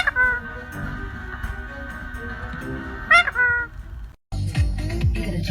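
Pet parrot kept alongside cats gives several harsh squawks and whistles through a busy household scene, with one loud shriek near the three-second mark and a burst of louder squawking at the end.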